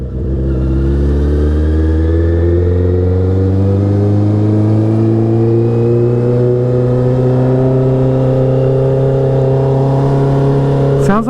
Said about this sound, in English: that burble is like really deep